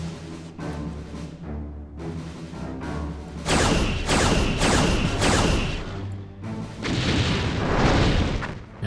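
Torpedo hits from a starship battle in Star Trek: Bridge Commander, a run of heavy booming impacts that land one after another in quick succession, loud and close, rumbling over a low background hum with no talking.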